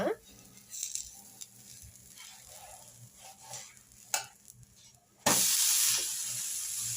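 A dosa roasts on a hot pan with a soft, steady sizzle and occasional stirring or scraping sounds, swelling into a louder, continuous hiss near the end, close and without talk.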